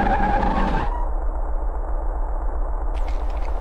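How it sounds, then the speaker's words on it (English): A car in the Car Mechanic Simulator 2018 video game: a steady, loud engine drone with a sustained tire skid that cuts off abruptly, leaving the engine running alone. No talking. "I have been just mashing the gas pedal and then skidding all over the place"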